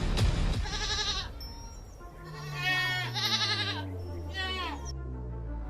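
A goat on a farm bleats in several wavering, nasal calls spread across the moment, fairly close and loud, with other farm animal cries mixed in.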